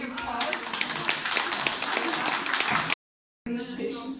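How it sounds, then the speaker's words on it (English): Audience applause, a dense burst of clapping hands with sharper individual claps, cut by a brief silent gap before more clapping and some chatter resume. "Let's give him a big applause."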